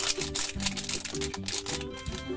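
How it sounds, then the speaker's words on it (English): Scissors snip through crinkly foil wrapping on a Disney Easter Tsum Tsum toy package, giving a run of close, crackly cuts and rustles in an even rhythm with no talk. "I think I'm going to need a scissor."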